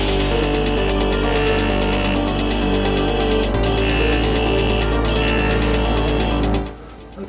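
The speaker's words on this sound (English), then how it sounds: "Here's another piece of stock. I will just turn into rough dimensions." A metal lathe turns a piece of stock down to rough dimensions, giving a steady, loud mechanical hum with a continuous hiss that runs without a break and then cuts off sharply near the end.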